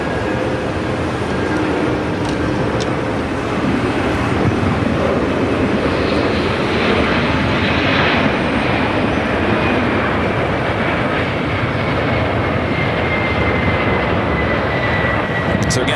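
An airliner takes off from runway 8 at Phoenix, heard from the north side as a loud, continuous jet roar that swells gradually, with a thin engine whine rising through it.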